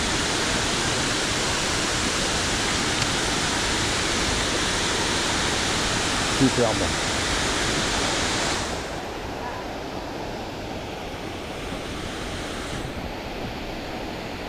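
Waterfall in the Cirque de Gavarnie in the Pyrenees roars as a steady, broad rushing wash that drops noticeably in level partway through, with a single brief spoken word over it.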